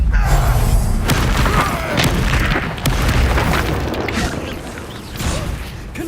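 Confringo blasting spells in Hogwarts Legacy go off as a steady, loud, booming rumble, with several sharp cracking hits spread across it.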